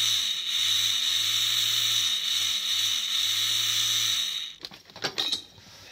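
A hand saw or power saw cuts through a metal grille in steady repeated strokes, loud and close, ending with a few clanks and knocks once the cut is through.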